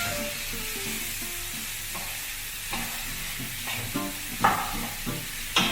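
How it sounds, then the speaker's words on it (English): Corned beef fries in a hot and spicy masala mixture, a soft sizzle under scraping stirs that grow louder toward the end, with no talking. "saute the corned beef as well into the mixture for about a minute to 2 minutes tops"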